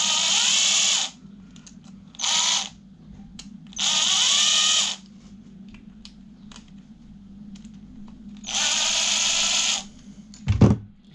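A power drill bores brass out of plugs for scrap, running in several separate whirring bursts of one to two seconds, with quiet handling and clicks between them and a sharp knock near the end.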